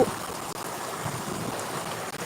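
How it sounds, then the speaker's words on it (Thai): Steady broadband splashing and rushing water, continuous and fairly close, like a fountain spilling into a basin, with no voices. "ลูกโลกน้ำตกน้ำพุน้ำพุ"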